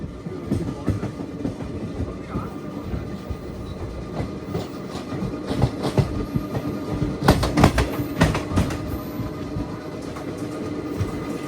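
The Howrah–Tiruchirappalli train rumbles past at Ongole station, its wheels clattering and thudding in a dense, continuous roar that swells in the middle and stays loud throughout.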